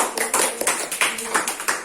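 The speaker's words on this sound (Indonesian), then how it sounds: "Ya, ini beri tepuk tangan dulu" Applause from a school audience at a positive-culture teacher presentation, a short burst of steady, fairly close clapping with sharp repeated hits, with a voice also present.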